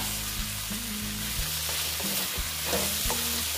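Soybeans, added for a soybean and chana dal dish, being stirred and fried in a pan, with a steady sizzle under repeated scraping strokes of a spatula, close and fairly loud throughout.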